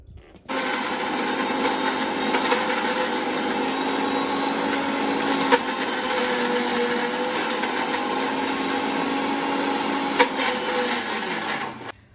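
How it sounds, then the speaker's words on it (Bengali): A kitchen blender whirs steadily for about eleven seconds, puréeing flat beans with seasonings for a Bengali sim bharta mash, its loud motor drone running evenly alone before cutting off and winding down. "এবার জাস্ট এটাকে ব্লেন্ড করে নেওয়ার পালা"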